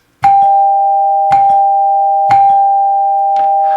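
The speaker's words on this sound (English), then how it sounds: "Now you have a 2-note door chime that has accent lights." A lighted NuTone LA43 Renaissance two-note door chime with resonating chambers rings loud and clear, its bars struck about once a second so each bright tone sustains into the next, alone with no talk.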